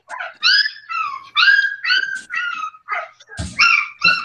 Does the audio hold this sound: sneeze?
no